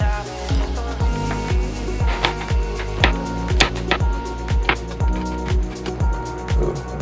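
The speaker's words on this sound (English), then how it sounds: "Okay, and then we'll be chopping up our garlic." Garlic being chopped with a knife on a cutting board: a run of about a dozen sharp, fairly regular chops, close and crisp, with nothing else heard.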